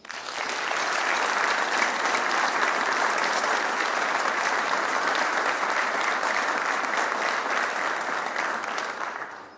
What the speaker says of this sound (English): Please, let's honor them with our applause.